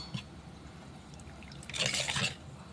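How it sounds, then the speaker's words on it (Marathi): Water is poured into a bowl of garam masala spice mix to make a paste for puri bhaji, a brief close liquid splash and gurgle that swells near the end, with no talking. "त्याच्यात पाणी टाकणार आहे थोडंसं"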